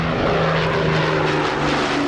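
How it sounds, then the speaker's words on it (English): A Second World War Avro Lancaster heavy bomber flying at an air show, its propeller engines giving a loud, steady droning roar that holds throughout. "The Lancaster, of course, the most outstanding heavy bomber of the Second World War"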